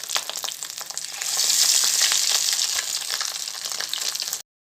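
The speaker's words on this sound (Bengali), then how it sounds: "এবার বড়াগুলো ভেজে নেব মাছের ডিমের" Fish roe fritters frying in hot oil give off a close, steady sizzle with bursts of spitting crackles. The sizzle swells midway, then cuts off abruptly near the end, with no talking.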